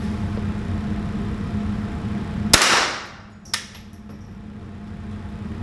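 A Henry AR-7 rifle fires Monarch ammunition: one sharp, loud crack that rings off, then a second, quicker report about a second later, over steady outdoor background noise.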